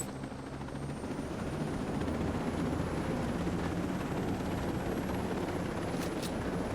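Helicopter in the video game Ghost Recon Breakpoint, a steady low rotor drone and engine rumble that holds at an even level throughout, with no talk.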